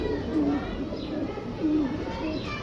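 Pigeons at a rooftop loft coo in two short, low bursts at a moderate distance, set against a steady background hum with a voice faintly under it.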